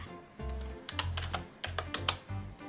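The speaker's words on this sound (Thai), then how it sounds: "ทีนี้มาทดลองพิมพ์ดูค่ะ" Actto B307 rechargeable wireless keyboard being typed on, a quick run of light plastic key clicks in uneven bursts, close and clear with no voices over it.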